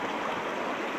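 Strong river current rushing steadily, a dense, continuous broadband roar of flowing water up close with no voices over it.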